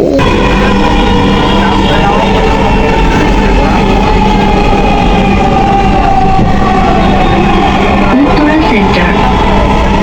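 Steady rumble and whine of a metro train in motion, heard from inside the carriage, continuous and fairly loud throughout with no talk.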